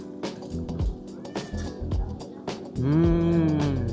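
A cat meows repeatedly beside people sharing an iftar meal of tray-served food, with short cries building to a long, drawn-out caterwaul at the end, close by and under faint voices.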